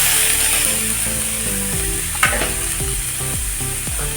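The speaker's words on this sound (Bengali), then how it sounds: "প্রথমে আমি গুগলিগুলোকে এই শুকনো কড়াইয়ের মধ্যে দিয়ে দেব" Steady sizzling and frying hiss of freshwater snails in a hot dry wok with repeated scraping stirs and one sharp clatter midway; music plays underneath, no talking.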